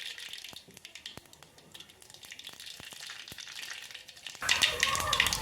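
Mustard seeds dropped into hot oil for tempering dal burst into a loud crackling sizzle near the end, after quieter pan sounds and scattered clicks.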